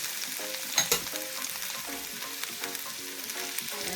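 Onions, tomatoes and peppers hiss and crackle in hot oil in a pan for chicken chop suey, a dense steady sizzle close by with a couple of sharper pops and stirring scrapes early on.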